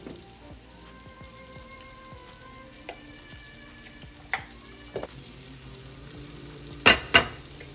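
Onion with green chillies, salt and turmeric fries quietly in a pan, a soft continuous sizzle with a few sharper knocks and clatters toward the end.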